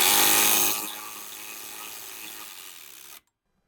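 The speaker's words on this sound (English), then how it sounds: "now you can grab your impact, and hopefully it's strong enough to get it out. We'll see how my little 3/8 Hyper Tough does" A small 3/8-inch Hyper Tough impact wrench works a stubborn bolt loose on an old Subaru, starting with a loud burst of hammering that eases into a steadier, quieter buzzing run before cutting off abruptly.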